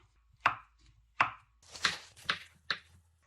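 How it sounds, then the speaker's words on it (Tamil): A knife chops boiled potatoes into small pieces on a board, five crisp distinct cuts in an uneven rhythm, close and clear over a quiet background. "இந்த உருளைக்கிழங்க சின்ன சின்ன வெட்டை எடுக்க போகிறேன்."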